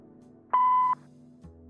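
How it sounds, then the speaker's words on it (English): A single short electronic answering-machine beep in the video game Kathy Rain 2, a clean steady tone lasting under half a second over a quiet low hum, followed by a soft click. "Please leave a message after the beep."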